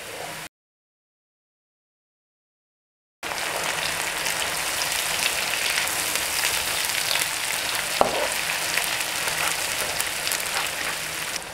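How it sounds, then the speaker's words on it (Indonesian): A ground spice paste sizzles steadily in a pan during Indonesian home cooking, a loud, close, continuous frying hiss broken by a brief silence near the start and one stirring clatter. "Dan sekarang saya tumis bumbu halusnya."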